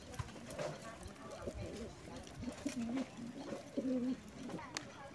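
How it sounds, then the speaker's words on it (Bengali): Pigeons pecking at chickpeas scattered for feed: soft irregular taps and clicks with low cooing calls in the background, faint and close. "সব পায়রা ভালোভাবেই খাচ্ছে ছোলা"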